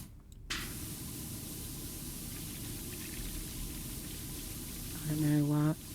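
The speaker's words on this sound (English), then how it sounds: "Sorry for the constant buzzing of the water spray then." A pressure washer in the game Power Wash Simulator sprays water on metal with a constant loud hiss lasting throughout, joined near the end by a brief tonal beep.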